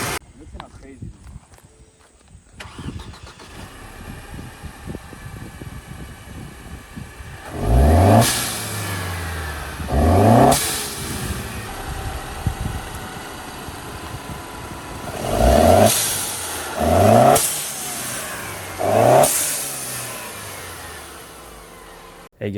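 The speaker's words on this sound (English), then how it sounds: "I'm gonna go ahead and start it now." Mercedes C250 W204 engine fitted with a diverter and blow-off valve, idling and then revving sharply five times in bursts that rise and fall back, close and loud, with the turbo whooshing as each rev drops.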